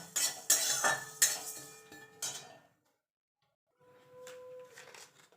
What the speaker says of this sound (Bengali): এটা একটু ভাজা ভাজা করে নেব যতক্ষণ মশলা থেকে একটা গন্ধ না বেরিয়ে আসছে